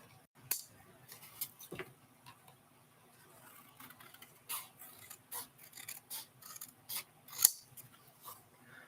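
Scissors snip through paper for an embossing craft in a series of sharp, close, quiet cuts at an uneven pace, with short pauses between them.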